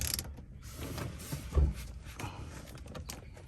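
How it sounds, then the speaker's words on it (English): Socket wrench working a bolt loose from a Tesla steering yoke, with creaking, ratcheting mechanical clicks and a sharp thunk midway, close up, with faint voices in the background. "So now you're gonna use this as a socket. Yeah. Yep. Okay, and you're taking the bolt off."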